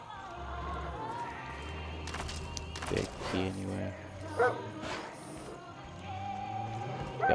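A dog barks a few times in the Far Cry 5 video game, with short yips and whimpers set among game effects and footsteps. Someone talks over much of it, and the barks sound moderately close.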